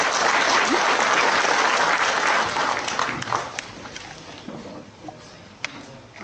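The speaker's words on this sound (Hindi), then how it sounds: "श्री संदीप देव जी, और इनका जोरदार तालियों से आप स्वागत करें।" An audience in a hall gives loud applause welcoming Sandeep Deo at his book event, a dense wash of clapping that gradually thins and fades to scattered claps.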